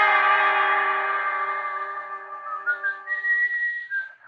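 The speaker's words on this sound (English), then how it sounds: "And then I heard the whistling." A person whistles a slow, clear sustained melody alone in a quiet, slightly echoing space late at night, the tone gliding upward and ending in a few short notes.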